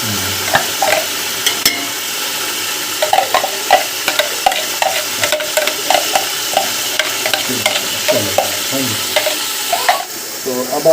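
Chicken vegetable pulao with ginger-garlic paste and freshly added green chillies, stirred in a pot over steady sizzling frying, with repeated scraping and clinking strokes of the spoon at close range and no talking.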